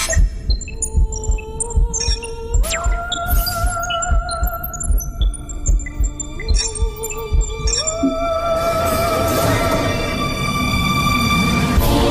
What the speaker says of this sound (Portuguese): Iniciando a varredura dos batimentos cardíacos.